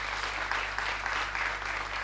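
Crowd at a youth pool championship match in the EPBF European Championships, Lithuania winning the under-19s, cheering and applauding steadily and loudly throughout, a dense continuous roar of clapping with no speech.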